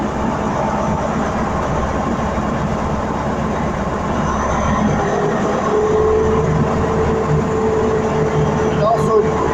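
A TransPennine Express train pulls into a platform at Durham station, a steady rumble of wheels and engine with a long squealing tone near the end, heard under station ambience and voices.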